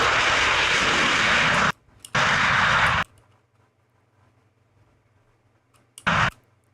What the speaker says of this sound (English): That's an F-18.